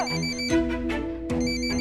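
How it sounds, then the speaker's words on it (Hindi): An indoor telephone rings with a steady, bright electronic tone through a short span, clear and close, with no voices over it. "फोन बज रहा है, उठाओ।"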